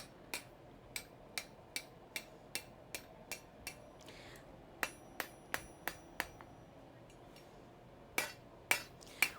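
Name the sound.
hammer striking metal on the horn of an anvil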